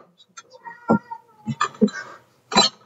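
A cat meows loudly and close by, giving several drawn-out, wavering cries spaced across a few seconds, with short pauses between calls.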